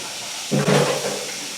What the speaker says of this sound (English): Rinse your pan out.